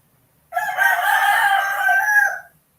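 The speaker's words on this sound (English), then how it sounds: "You can hear the fucking roosters." A single rooster crows one loud, close cock-a-doodle-doo lasting about two seconds, standing alone in an otherwise quiet late-night or early-morning setting.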